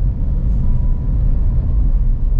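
A car engine pulling steadily after an upshift into third gear, a loud continuous low rumble that holds even throughout with no break or talk.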